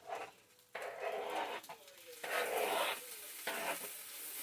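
Sliced ham frying in a pan with peppers and onions, heard as loud bursts of hissing sizzle that swell and cut off several times, with quieter gaps between them.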